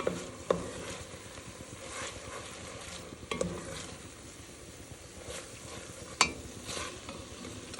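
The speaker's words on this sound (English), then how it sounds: "gonna now add my garlic. And we're just gonna cook it about a minute longer." Garlic cooks in a pan of soup base for Zuppa Toscana, with a soft continuous sizzle, a few utensil clinks and stirring scrapes, moderately quiet and without speech.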